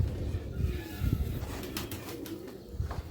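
Pigeons, including a broad-headed one, make low cooing calls that rise and fall close by, with soft rustling and a few wing flutters in the background.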